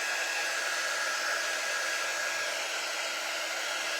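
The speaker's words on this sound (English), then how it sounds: "let me just hit it with the dryer and let me just dry these while I'm here" A hair dryer blows steadily and close up to dry a freshly painted snowman craft piece, making one continuous loud whoosh with no pauses and no voices.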